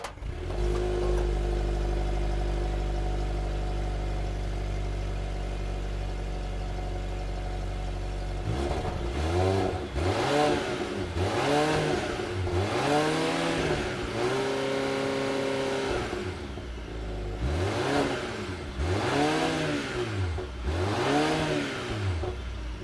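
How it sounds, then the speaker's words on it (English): Exhaust of a Volvo S60 T8 Polestar with dual exit pipes, first a steady idle drone, then a series of rising and falling revs, each swelling and dropping back in a repeated pattern, fairly loud and alone. "you had a chance to listen to the exhaust, not the most aggressive sounding thing"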